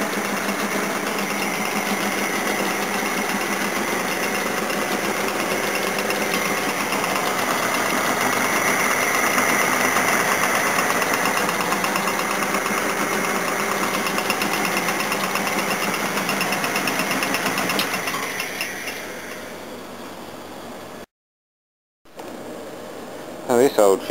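An old 1953 condensing unit motor runs with a steady, close mechanical hum and faint knocking for most of the stretch, then quiets near the end before a brief silence and restart.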